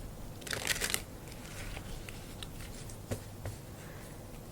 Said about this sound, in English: I'm gonna just shuffle that again.